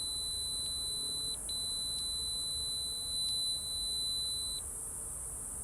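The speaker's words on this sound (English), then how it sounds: "It'll go down to 0. It'll beep." A multimeter's continuity test gives a steady high electronic beep for several seconds, cutting out briefly a few times before it stops, over a faint background hum.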